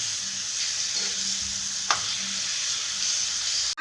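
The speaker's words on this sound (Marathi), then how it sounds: "आता आपण तेलामध्ये ना परतून घेऊ आपण" Brinjal sautéing in hot oil in a pan, a steady close sizzle with a brief stir and a scrape near the end, no talk.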